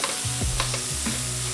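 Soft apple pieces caramelize in a hot pan, a steady close sizzle broken by a few scraping stirs, with no voices.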